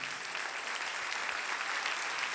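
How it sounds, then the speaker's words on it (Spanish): A church congregation applauds during a Spanish-language sermon, a dense, continuous wash of clapping at moderate volume with no speech over it. "Dele ese aplauso al rey."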